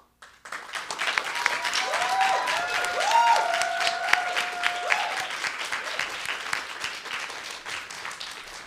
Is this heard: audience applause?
yes